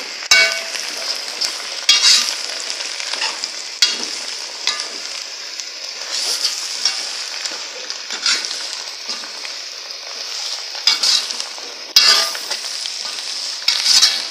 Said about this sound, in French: remuer le tout.